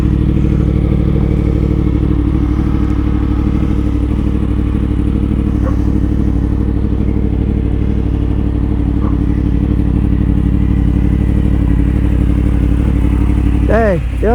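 Full carbon fiber Yamaha R1 sport bike engine running loud and steady, a continuous low drone close by with faint clatter, while someone talks over it.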